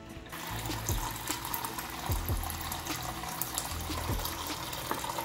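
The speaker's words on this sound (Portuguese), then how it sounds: "Aí eu coloco água até encher aqui." Tap water runs steadily into a container, a close gurgling and splashing fill with bubbly trickles and small plops, heard alone without talk.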